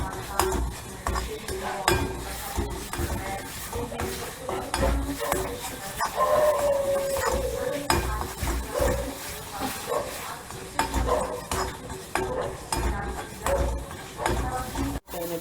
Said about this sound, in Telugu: సెపరేట్ అయ్యేంత వరకు వేయించాలి